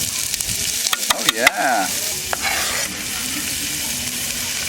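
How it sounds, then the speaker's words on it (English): Olive oil sizzles in a skillet with a steady, close hiss, broken early by a few sharp clinks and a brief whine. A voice speaks a short word over it. "We're gonna throw some olive oil in our skillet."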